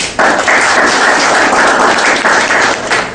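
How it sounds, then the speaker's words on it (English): Audience applause at an education session on value systems, a steady burst of dense clapping that fills the room from start to finish, loud and close with no voices on top. "Give him a round of applause."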